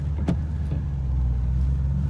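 Car engine humming steadily as the vehicle pulls onto a freeway in traffic, a low continuous drone inside the cabin with a brief faint click early on, no talking.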